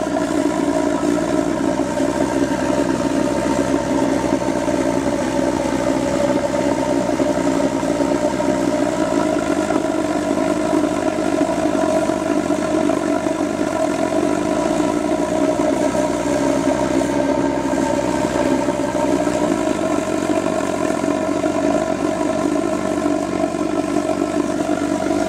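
A spraying waste-oil burner built from off-the-shelf fittings roars continuously and loudly at close range, a steady rushing drone with slight swells as the throttle is dialed, with no talk.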